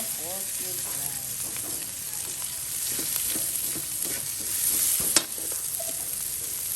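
Tofu stir-frying in a pan gives a steady, close sizzle, with occasional scrapes and stirring clatter and a sharp utensil clink near the end.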